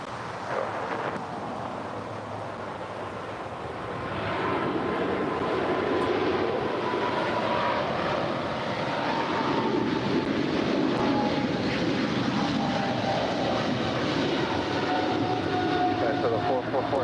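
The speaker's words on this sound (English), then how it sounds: "We've got a China Southern Cargo, 777 now rolling down, 25 right" A China Southern Cargo Boeing 777 heavy jet takes off on runway 25 right at LAX, its broad, steady roar swelling after a few seconds and holding strong from mid-distance.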